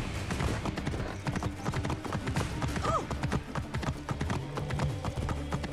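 Horse hooves clip-clopping in a steady trotting rhythm while riding in Assassin's Creed Origins, close and continuous, with a brief whinny midway over a low background rumble.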